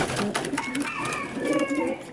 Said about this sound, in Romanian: are șansa de a câștiga la tombolă un porumbel de excepție